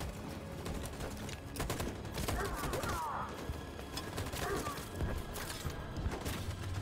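Sustained automatic gunfire from a machine gun in the video game Detroit: Become Human, a dense rattling barrage with heavy thumps throughout, fairly loud and continuous, with faint voices mixed in.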